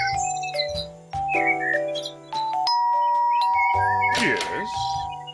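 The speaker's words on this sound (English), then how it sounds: "I better use the doorbell instead of knocking." A video game doorbell rings with bright chiming ding-dong tones in a descending melodic pattern, followed by a burst of airy whistling or chirping near the end, loud and close.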